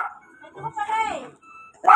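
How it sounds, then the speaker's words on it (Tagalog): A pet dog barks at home in a Tondo, Manila household, a short close yapping burst followed by another sharp bark, with a person talking nearby. "Tumatawol na po yung aking aso."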